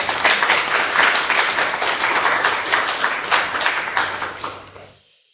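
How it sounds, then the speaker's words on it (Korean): A church congregation claps after a choir's hymn, a dense burst of many hands close by that holds steady and then fades out quickly at the end. "박수합시다."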